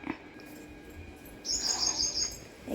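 Faint bird calls in a quiet outdoor setting, followed by a brighter burst of high chirping that lasts about a second.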